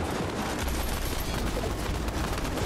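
Dense, continuous spray of automatic gunfire in a competitive shooter cash cup match, loud and sustained for a few seconds with no pauses and no talk over it.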